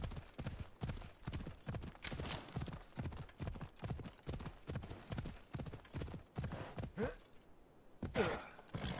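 Horse hooves clip-clopping in Assassin's Creed Odyssey, a steady rapid rhythm of hoofbeats at a walk-to-trot pace, close and even, with a faint breathy snort near the end.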